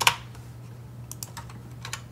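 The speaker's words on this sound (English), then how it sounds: "to go to Digi-Key and we type that in" A few sharp clicks on a computer keyboard as a part number is typed into a parts-supplier search, sparse and close over a low steady hum, with no voice.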